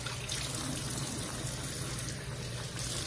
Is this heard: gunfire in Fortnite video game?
no